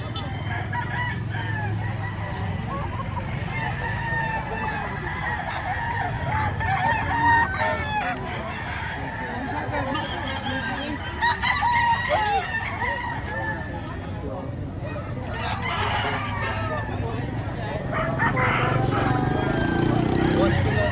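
Several roosters crow repeatedly over steady clucking and poultry chatter at a Saturday chicken market in Lipa, Batangas, with some voices talking in the background throughout.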